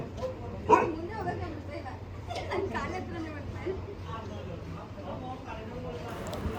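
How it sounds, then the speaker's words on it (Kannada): Dogs bark and yip at an animal shelter that takes in injured and sick dogs for treatment, with one sharp close bark standing out over a continuous background of people talking. "ಇಲ್ಲೆಲ್ಲ ತುಂಬ ನಾಯಿಗಳನ್ನ ಟ್ರೀಟ್ಮೆಂಟ್ಗೋಸ್ಕರನೂ ಕರ್ಕೊಂಬರ್ತಾರೆ."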